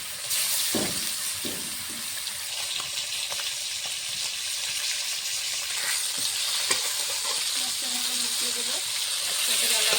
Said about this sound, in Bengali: মেখে রেখা মাছগুলো ভেজে নেব